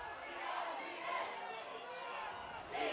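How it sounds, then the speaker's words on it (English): Football crowd at a Baldwin Bulldogs vs. Burlington Wildcats game rising in steady, continuous cheering and chatter before a 4th-down play, a broad roar that swells slightly near the end. "Crowd getting really into it now."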